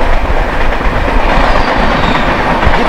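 The Howrah–Mumbai Gitanjali Express rumbles past loud and close, a dense, steady roar of wheels and carriages with a rhythmic clickety-clack throughout.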